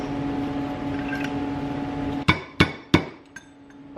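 Hammer driving a part through on a BMW E28 driveline during an M30B35 manual swap, three sharp metallic blows in quick succession followed by a fainter fourth, close, over a steady background hum.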